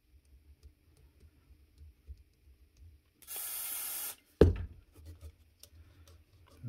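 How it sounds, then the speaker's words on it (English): Contact cleaner sprays onto a power tool in a brief, steady hiss lasting about a second, followed by a sharp knock from handling in an otherwise quiet workshop. "once that's clean, I'm going to give it a wee bit of contact cleaner."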